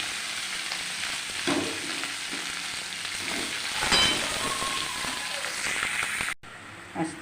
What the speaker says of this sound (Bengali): আর এটা মশলা টশলা দিয়ে সবজি সেদ্ধ করে নেওয়াটা ঢেলে দিলাম এর মধ্যে।